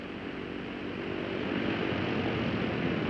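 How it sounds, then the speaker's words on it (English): Four engines of a 1953 Eastern airliner run up one by one before takeoff, a steady, loud, broadband roar that swells slightly and holds without a break. "And so on until all 4 engines have been run up and checked."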